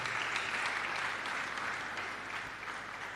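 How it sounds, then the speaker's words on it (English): A university ICT expo audience gives Professor Clement Jijonio a round of applause, steady dense clapping filling the hall and fading slightly toward the end. "Let's give Professor Clement Jijonio a round of applause."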